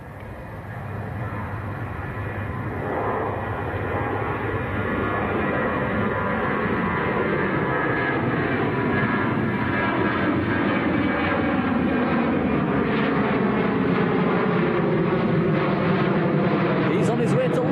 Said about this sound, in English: next aircraft getting airborne, Ryanair 737.